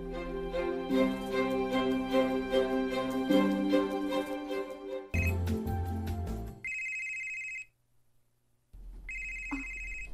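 A cellphone rings with a repeating tonal ringtone, loud and close, first over background music and then in separated bursts with short pauses between them.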